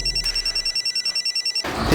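A telephone rings unanswered in a quiet room, a steady electronic trill repeating in about a dozen short regular bursts, followed by a sudden louder thump and rustle at the end.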